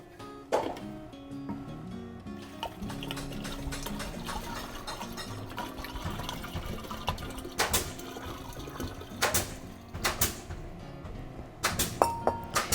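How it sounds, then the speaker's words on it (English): Extra hot water poured into a Bora Care container, a gurgling stream with sloshing liquid and sharp clinks and knocks against the container, fairly close and moderately quiet. "Now let's add that extra hot water to this Bora Care container"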